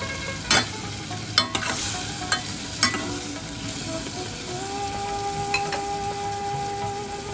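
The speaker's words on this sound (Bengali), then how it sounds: "এবার আমি পোস্ত বাটা ধোয়া জলটা দিয়ে দিলাম" Water used to rinse ground poppy seed paste is poured into a hot pan of ridge gourd, hissing into a steady close sizzle, with a few sharp clinks of a utensil stirring against the pan.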